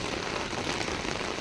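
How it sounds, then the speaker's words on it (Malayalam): Heavy rain in Kozhikode pours down in a dense, unbroken hiss, loud and steady throughout with no gaps or voices. "ഇപ്പോൾ കുറേ നേരമായിട്ട് നല്ല മഴയാണ്"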